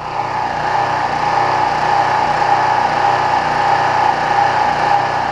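A small gasoline engine running steadily close by as it burns off the last of its fuel with the choke partly on, a continuous droning buzz with no talking.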